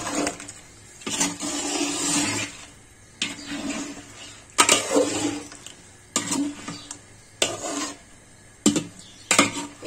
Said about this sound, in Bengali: পানি দিয়ে আমি নাড়া দিয়ে দিচ্ছি।